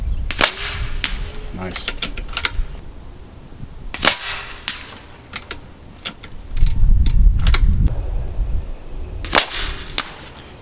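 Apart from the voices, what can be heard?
Kalibrgun Cricket airgun firing .253 35 grain slugs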